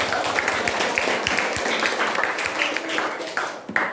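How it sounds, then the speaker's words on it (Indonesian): A class of students claps for themselves in a morning school lesson, a dense run of many small hand claps filling the room steadily, with a few louder taps standing out near the end. "Tepuk tangan dulu untuk kalian."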